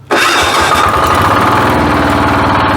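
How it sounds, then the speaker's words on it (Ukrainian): A Weima diesel walk-behind tractor engine fires up on its electric starter set to maximum throttle, catching almost instantly and settling into a loud, steady, close running clatter with no talking. "Цей мотоблок з електричним стартером."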